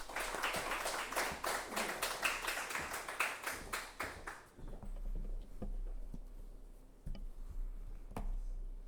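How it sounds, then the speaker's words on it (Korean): A smattering of hand claps from a church congregation, quick and uneven at first, then thinning into a few scattered claps and taps in a quiet room. "따뜻한 박수로 모시겠습니다"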